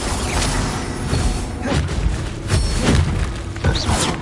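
The Bombarda blasting spell in Hogwarts Legacy goes off in a run of booming explosions and thuds, with crashing debris and whooshes, loud and dense throughout.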